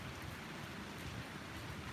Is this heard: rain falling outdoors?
yes